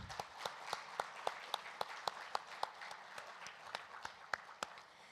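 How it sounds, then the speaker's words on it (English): Energetic audience applause at the AM/NS India brand launch event, a dense wash of clapping with a few sharper loud claps standing out, steady and close throughout. "Let's begin with a huge and energetic round of applause for"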